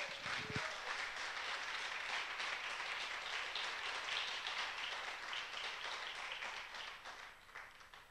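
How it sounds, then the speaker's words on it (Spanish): A congregation applauds during a sermon, a soft, dense wash of clapping heard from a distance that holds steady and then thins out toward the end. "Den un aplauso para el Señor."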